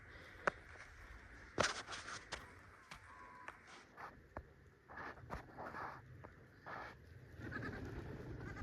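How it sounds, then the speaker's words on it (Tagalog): Goats on an Australian farm, running with dogs close by, give scattered bleats among rustling, footsteps and occasional knocks, fairly faint and intermittent over several seconds. "Yung mga kambing nandun."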